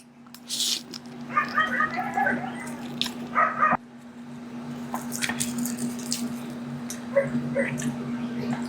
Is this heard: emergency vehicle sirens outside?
no